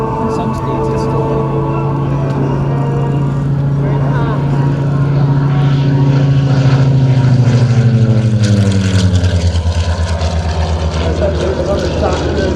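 A Curtiss SB2C-5 Helldiver propeller aircraft flies past at an air show in Geneseo, its loud, steady piston-engine drone holding throughout and dropping in pitch toward the end as it passes and moves away.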